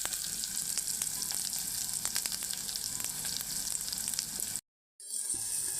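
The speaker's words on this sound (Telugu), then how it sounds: "గోంగూర కొంచెం ఫ్రై అవ్వాలి" Gongura sorrel leaves fry in a pan, giving a dense, continuous close sizzle with faint stirring that stops abruptly near the end before a quieter hiss returns.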